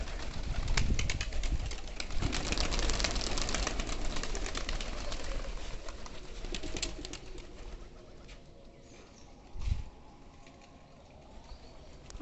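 A large flock of fifty or sixty pigeons coos together, a continuous murmuring chorus with occasional wing flutters and a brief louder thump near the end, heard close and without talk.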